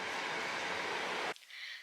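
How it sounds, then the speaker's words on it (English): A C2C passenger train rumbles steadily past at a station in East London for over a second, a broad loud roar that cuts off abruptly, leaving a fainter hiss behind. "So the train pulling in behind me is a C2C train"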